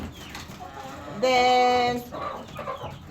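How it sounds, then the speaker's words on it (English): Chickens in the young-bird compartment of a poultry farm, with a loud, sustained harmonic call rising above soft scattered clucking and rustling, the call lasting under a second before quieter clucks resume. "This is where I keep the young ones, the chicken"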